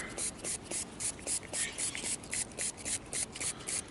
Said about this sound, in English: I'm going to spray it all over this rag right here